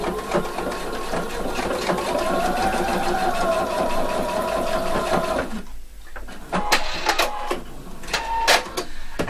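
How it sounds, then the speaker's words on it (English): Sewing machine stitching the shoulder seam of a Peter Pan collar, a fast steady mechanical whir for about five seconds, then a pause followed by a few short clicks and handling knocks. "I'm stitching this all the way, and the other one as well."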